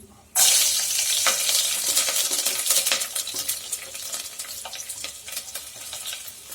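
Garlic sizzles loudly in hot oil in a pan while cooking potato biryani, a bright steady frying hiss that starts abruptly and carries on with scattered stirring scrapes, close and alone without talk.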